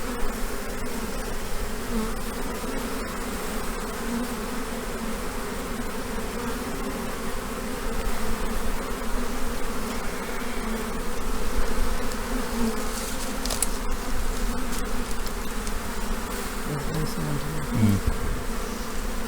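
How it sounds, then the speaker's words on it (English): A swarm of bees, a jubilee swarm being moved into a new hive, drones in a dense, steady buzz for the whole stretch, fairly close and even, with a few brief knocks and rustles near the end. "They've been a bit awkward, these bees, the swarm."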